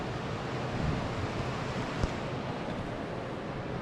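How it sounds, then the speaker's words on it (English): A rushing Colorado creek flows outside an open hotel window: a continuous, full, hissing roar of running water, steady and fairly loud, with one brief knock partway through and no talk. "I got creekside, and that creek is running"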